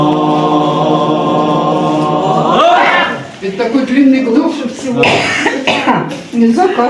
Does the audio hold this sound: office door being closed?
no